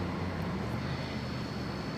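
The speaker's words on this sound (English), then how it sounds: "airplanes passing by, pretty much flying over my head" An airplane flies overhead in a steady, faint broadband roar that stays even throughout with no other clear sounds.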